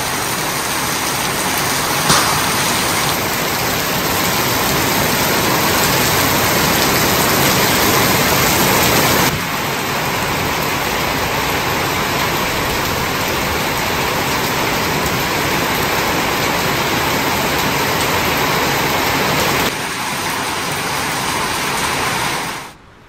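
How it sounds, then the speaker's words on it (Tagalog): Heavy rain pours down outdoors in a dense, unbroken roar of large drops and running water, loud and close throughout, with no voices. "Ang lakas ng ulan."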